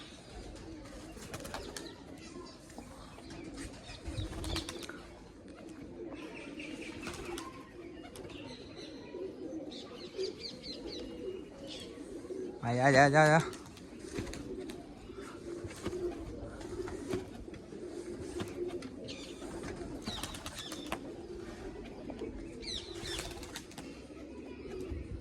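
Pigeons coo softly amid outdoor ambience, with a brief burst of wing flapping midway; a man calls out a few times.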